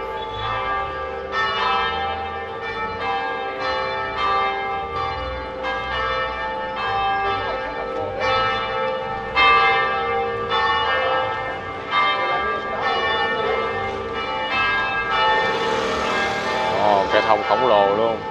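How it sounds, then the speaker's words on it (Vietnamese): Church bells ringing out at Tân Định Church in Saigon during Christmas 2023, a continuous loud peal of overlapping tolls that swells steadily across the whole stretch, with a brief voice mixed in. "Nghe tiếng chuông vang lên ở nhà thờ đó."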